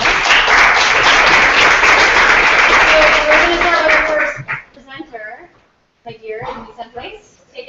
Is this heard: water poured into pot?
no